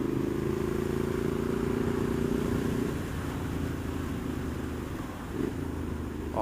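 A 2018 Triumph Street Scrambler motorcycle engine drones steadily while riding, a low continuous rumble with a brief rise near the end, heard without speech.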